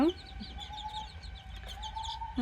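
Chicks about a month old cluck and peep softly in a quiet, close setting, with a few brief louder calls at the start and end.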